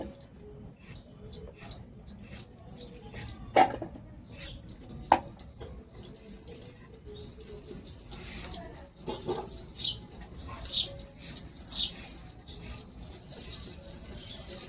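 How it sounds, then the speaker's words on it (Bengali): A knife slicing through soft potatoes in a home kitchen, scattered crisp cuts and taps spaced irregularly, fairly close, with light background noise and faint voices. "এই যেভাবে করে কেটে নিচ্ছি এই আলুটা খুব সহজেই গলে যায়"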